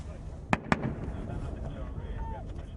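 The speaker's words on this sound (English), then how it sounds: "Mortars land just yards away." Mortar rounds explode close by during a firefight in Afghanistan, two sharp, loud blasts in quick succession early on. A rumbling, noisy battlefield background follows, with a faint voice briefly audible.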